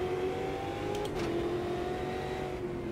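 Stock car engines in the racing simulator Automobilista 2, revving with rising and falling pitch as cars pass, moderately faint and steady throughout with no talk.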